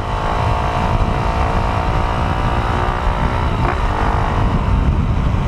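A Raider 150 motorcycle engine revs hard and loud in third gear, a dense, buzzing continuous drone held near the microphone throughout.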